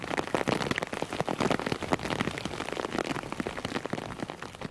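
Intense rain showers pelt bare soil in a dry landscape, a dense, steady patter of raindrops hitting the ground close by, with no voices.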